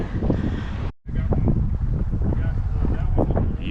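Strong wind buffets the microphone during a group bike tour in Utah, a steady loud roar with gusty rustling that drops out briefly near the start, then continues unbroken.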